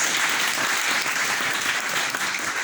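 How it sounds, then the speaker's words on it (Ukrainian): Dense, steady applause from an audience at a journalists' forum, many hands clapping close and loud without pause. "Всі аплодисменти для вас."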